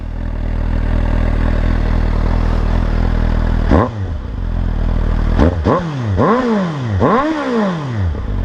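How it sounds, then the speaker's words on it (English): A warmed-up 2015 Suzuki GSX-S750 motorcycle idles with a steady close engine rumble, then several sharp throttle blips rise and fall in quick succession. "the bike is already warmed up. So, there you go. Just idling."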